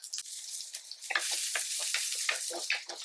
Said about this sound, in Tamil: எண்ணெய் காஞ்ச உடனே வெங்காயம் நம்ம சின்ன வெங்காயம் இருந்தாலும் போட்டுக்கலாம்